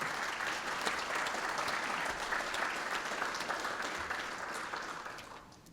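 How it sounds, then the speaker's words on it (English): Audience at a veterans' symposium breaking into applause, a dense, even wash of many hands clapping at steady strength for several seconds before tapering off at the end. "So I want to give them a round of applause as well."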